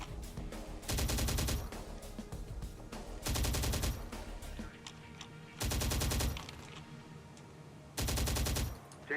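Four loud, evenly spaced bursts of automatic gunfire rip through a Terminator: Dark Fate Defiance tactical battle. Each volley lasts about half a second, with quieter combat ambience between them.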